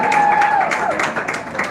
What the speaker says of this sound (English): A big round of applause for Ricardo